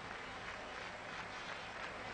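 Broad, even applause from about 40,000 spectators in a football stadium, heard as a faint, distant wash of clapping without breaks.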